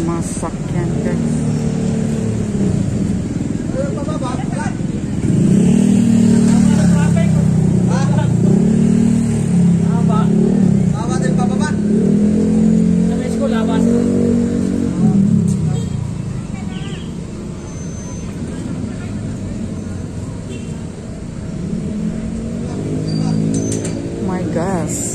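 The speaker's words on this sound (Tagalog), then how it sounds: "grabe yung mga sasakyan, guys." Heavy road traffic in the Philippines, with cars and motorcycles revving and droning steadily close by for the whole stretch, while people talk over the engine noise throughout.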